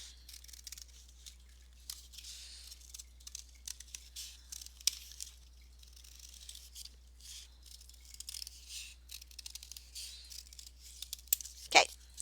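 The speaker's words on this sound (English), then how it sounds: "And let's cut this circle out." Scissors cutting a paper circle, soft snipping and rustling paper over a low steady hum, quiet and close, ending with a sharp louder crinkle.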